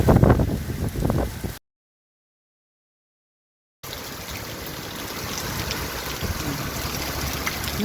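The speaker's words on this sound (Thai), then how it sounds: "ที่นี่หนักมากเลยทั้งลมทั้งฝนนะ" Heavy rain driven by wind on Chaeng Watthana Road, a street in Pak Kret, Bangkok, makes a steady broadband wash with bursts of louder gusts near the start, then a gap of silence before the constant downpour resumes.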